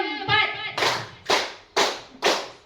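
Audience members in a clapping game give four sharp, unison hand claps in an even rhythm, each one loud and crisp, right after a short spoken cue.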